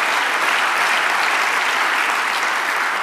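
Church congregation applauding in praise during a Spanish-language worship service, a dense, steady wash of clapping that stays loud and even throughout with no voices on top.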